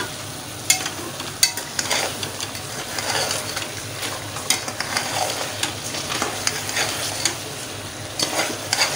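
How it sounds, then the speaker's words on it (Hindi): Cauliflower frying in ghee over a high flame, a continuous close sizzle broken by frequent stirring scrapes and clacks of a spoon against the pot, without any talking. "मैं घी डालने लगी हूँ, फ्लेम थोड़ा तेज़ करके इसको भूनना"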